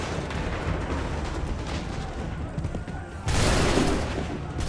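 A volley of musket gunfire in Assassin's Creed III crashes in as one loud, sharp burst near the end. It follows a stretch of steady, noisy battle ambience.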